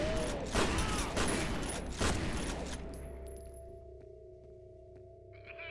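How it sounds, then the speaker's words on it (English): Grenade in the F.E.A.R. video game, a burst of loud explosive blasts and crackling debris that fades into a low ringing hum, with faint clicks and a brief rattle near the end. "It's a grenade."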